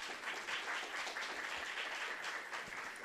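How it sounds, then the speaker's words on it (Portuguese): Sustained applause from a seated audience welcoming writer Gonçalo Tavares at a talk at Sesc Vila Mariana, steady dense clapping heard from a distance throughout, with no voices over it. "Eu peço uma salva de palmas para ele"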